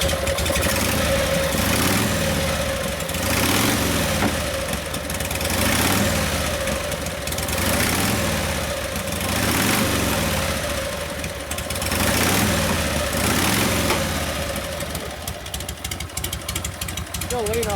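A 1952 Harley-Davidson FL panhead with a Linkert carburetor and no air cleaner idles lean and lumpy, its uneven loping thump pulsing steadily close by, the idle slowly rising while people talk over it.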